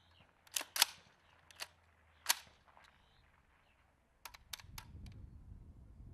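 An M16-type rifle is handled at full speed: sharp metallic clicks and clacks come in quick separate bursts, close but fairly soft, followed by a low rustle of handling.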